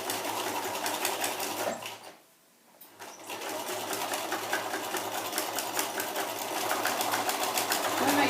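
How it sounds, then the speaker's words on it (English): A sewing machine stitches right along the fabric edge of a face mask for the seam allowance, a loud, close, steady whir that breaks off briefly for about a second and then resumes; no one speaks. "You are going to just stitch right along the edge for your seam allowance"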